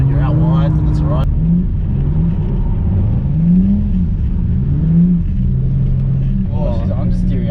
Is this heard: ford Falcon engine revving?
yes